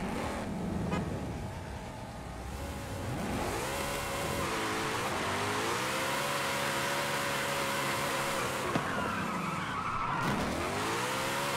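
Tires squeal and skid as a car slides through corners in a street racing game, long sweeping screeches rising and falling over a steady engine roar.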